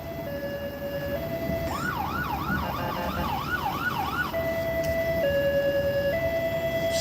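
An ambulance siren sounds amid New York traffic in the Bronx, switching between a two-tone hi-lo pattern and a fast rising-falling yelp, fairly close and loud.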